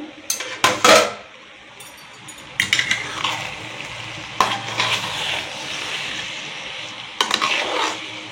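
Mutton biryani is stirred in a pot, giving loud metallic scrapes and clanks in bursts over a continuous low sizzle.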